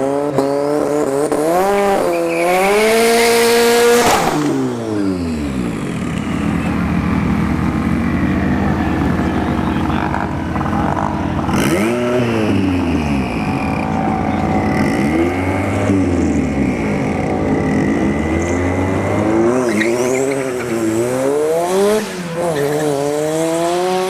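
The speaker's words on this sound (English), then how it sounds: "91 miles an hour for the single jingle Turbo CRX" A single-turbo Honda CRX roars down a dragstrip at a test-and-tune event, its engine climbing loudly through rising gear pulls, with shifts breaking the sweeps and the car staying close and dominant throughout.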